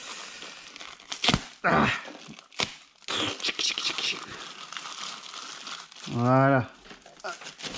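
Motion Pro motorcycle parts are unboxed from plastic packaging, giving bursts of loud crinkling and tearing close up, broken by gaps and short spoken remarks.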